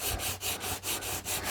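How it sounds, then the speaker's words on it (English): Steady back-and-forth rubbing of a rubber sanding block with 320-grit paper on a wooden table, rhythmic strokes about every 0.4 seconds, close and continuous. "Now this is a 320 grit paper, and this is a rubber sanding block"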